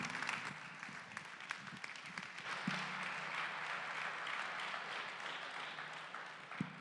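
Applause from an audience at a book talk on a World War II history of racism, a steady, fairly faint patter of many hands clapping that lasts the whole stretch.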